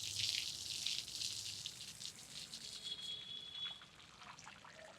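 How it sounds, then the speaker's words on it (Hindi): Water-soluble fertilizer solution is showered from a can over the leaves of a potted rose, giving a soft, steady splashing and trickling patter that fades slightly toward the end, close and alone. "मैंने लीव्स पे भी शावरिंग करी है और मैंने उसमें गमले में भी पानी दे दिया है"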